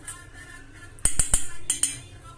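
A spoon clinks sharply against a bowl while poha is mixed with salt and sugar: three quick metallic taps, a short pause, then two more, close up over a quiet room.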